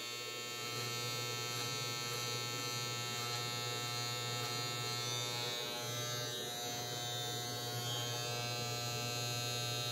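Electric hair clippers buzz steadily and close by as they trim around a man's ear during a home haircut, a continuous motor hum with slight changes as the blade moves.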